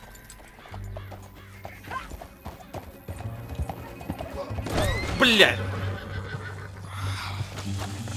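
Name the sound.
horse galloping and neighing in the video game Red Dead Redemption 2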